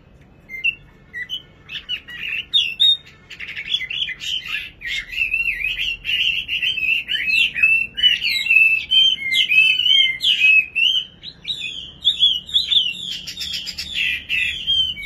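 A nightingale sings a long, varied song of rich whistles, trills and chirps, loud and close, continuing almost without pause over a quiet background.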